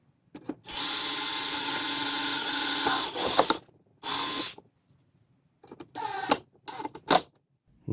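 A cordless power drill drives black flathead countersunk drywall screws to mount a Dewalt battery holder, with a long whirring run, a shorter burst, then several brief bursts, loud and close with quiet gaps between.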